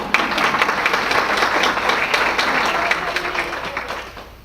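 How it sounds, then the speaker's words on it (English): Audience applause at a 2015 awards ceremony, a dense burst of many hands clapping together, loud and sustained for a few seconds before tapering off, with faint voices mixed in. "you're going to clap for the golf tournament."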